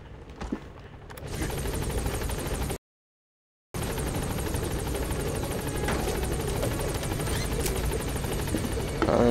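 In the Metal Gear Solid 5 video game, a helicopter gives a loud, steady rotor roar that is cut by a brief total silence early on and then runs on continuously, with no talk over it.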